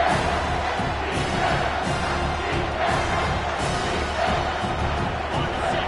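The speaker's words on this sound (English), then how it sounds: "Decibels rising as the crowd gets behind this defense on third down." A football stadium crowd roars steadily behind a defense on third down, a dense, continuous wash of cheering and noise from thousands of fans filling the space without any clear break.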